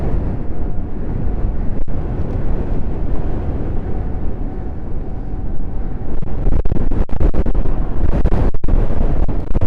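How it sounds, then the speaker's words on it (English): Strong wind roars against a cyclist riding through snow and ice, a loud, constant buffeting rush battering the microphone with occasional sharper gusts and knocks. "this wind is crazy. It's actually stopping me."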